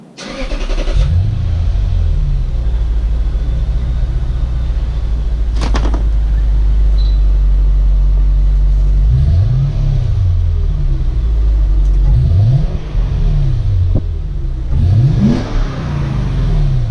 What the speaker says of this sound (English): He's gonna start it up and we're gonna see how it sounds.